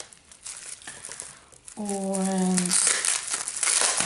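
Bubble-wrap packaging around a Christmas parcel crinkles and crumples close up, loud and continuous after a short rubbery squeak, with a voice speaking briefly near the start.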